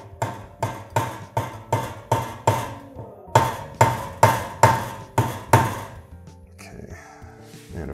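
A mallet taps a low-profile industrial clamp to fine-tune it: two loud, close runs of six or seven even knocks, separated by a short pause, then quiet.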